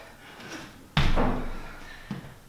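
An unlatched basement door bangs hard once against its frame, followed by a lighter knock, loud and close in a quiet room.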